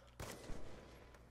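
Gunshots fired through a wall in a first-person shooter video game, a short sharp burst of two or three close cracks followed by a fading tail.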